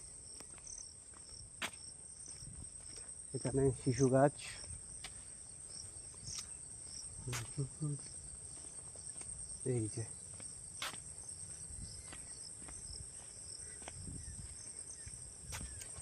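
Crickets chirr steadily and shrilly in a wide jute field at sunset. The sound is continuous and faint, with a few soft footsteps and brief nearby talk.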